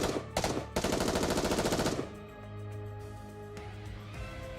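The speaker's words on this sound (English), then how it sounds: "unleash a barrage of gunfire towards the core of the massive object" A loud, rapid burst of continuous gunfire in Goddess of Victory: Nikke rattles for about two seconds, aimed at a massive object's core, then gives way to a lingering ringing hum.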